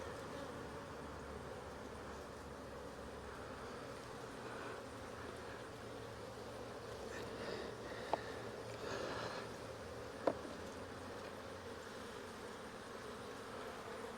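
Honeybees hum at an open hive during a brood-frame inspection, a soft, continuous low drone with a couple of faint clicks from handling the frames, without any talking.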